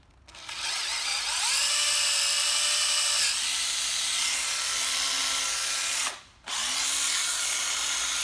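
Used Japanese 9.6V cordless battery drill running steadily at speed with a high whine, briefly stopping and restarting near the end; close and loud, no talk.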